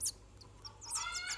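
Eight-day-old curió chicks cheep in sharp, high bursts while being hand-fed, with short peeps followed by a quick run of excited begging chirps, close and fairly faint over a low hum.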